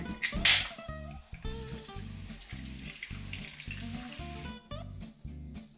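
Beer and onion go into a hot pan of sizzling steak: a splash and loud hiss at the start, then steady bubbling, spattering frying with clinks of stirring, close and busy.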